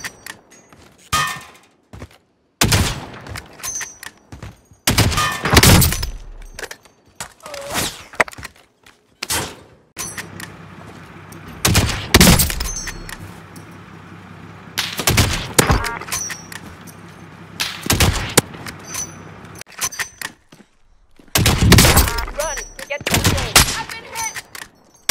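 Bursts of gunfire in Call of Duty Warzone, loud sniper shots and clanging hits in irregular clusters separated by short quiet gaps, with players' voices talking over the action.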